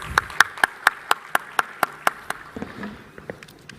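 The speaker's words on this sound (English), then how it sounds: "Let's welcome Dr. Somnath S. with a round of applause." At an event celebrating India's first National Space Day, a single pair of hands claps in a steady rhythm, about a dozen sharp, close claps that fade into scattered softer ones.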